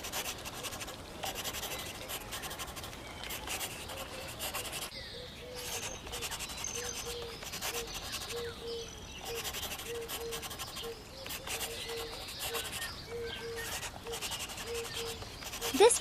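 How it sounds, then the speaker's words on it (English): Black marker drawing bold outlines on paper, a run of soft squeaky scratching strokes in short repeated bursts, close and quiet, with faint background music underneath. "let's make the outlines bold and sharp with our trusty black marker."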